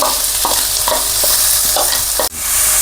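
Onion frying in peanut oil in a pan, a steady loud sizzle broken by several scraping stirs of a spoon, with one sharp knock near the end.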